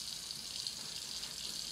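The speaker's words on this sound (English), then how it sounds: "I added some water sounds from the tap." Tap water running steadily in a home, a continuous even hiss-like gush with no talk over it.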